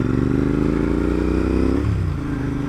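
A Royal Enfield motorcycle engine runs steadily and loud, a low throbbing idle with harmonic drone that shifts pitch slightly near the end, with no voices over it.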